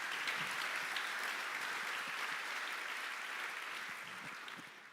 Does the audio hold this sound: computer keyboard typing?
no